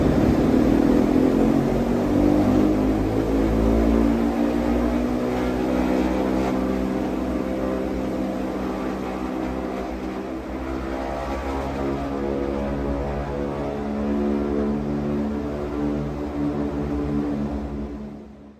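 A propeller aircraft, the Enola Gay, takes off from Runway Able on Tinian: a loud, steady multi-engine drone with a rising tonal hum that holds throughout and fades slightly near the end, with no voices.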